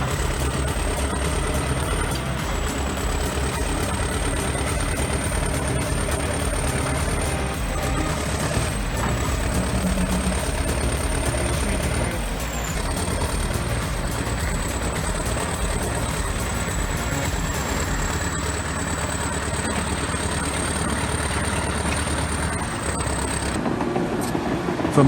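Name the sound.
T-130 bulldozer engine towing a Kamaz truck uphill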